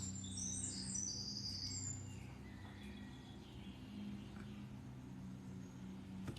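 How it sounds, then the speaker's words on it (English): Recorded birdsong plays from a speaker indoors, with faint high chirps and tweets over a steady low hum, brightest at the start and fading into the background. "Let me pause our bird sounds."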